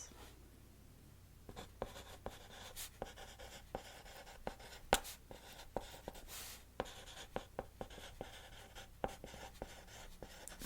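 A pen scratches on paper in a jewelry store, a string of soft, close, irregular strokes and taps with brief pauses between them, heard alone with no talking.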